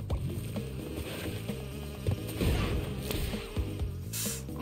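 Bees buzzing in Crash Bandicoot N. Sane Trilogy, a faint drone beneath loud, busy game music with stepped bass notes and scattered clattering effects.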